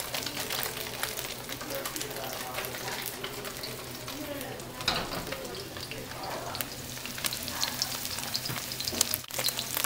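Tofu fries in a pan for pad Thai, turned over and browning golden, with a steady dense sizzle and occasional stirring scrapes running through the whole stretch, close and even.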